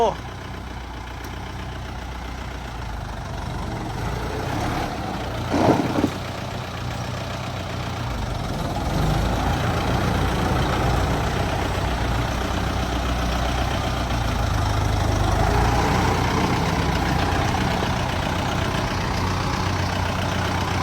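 A Kubota M7040 tractor engine idles and runs with a steady low rumble throughout, with people talking over it nearby.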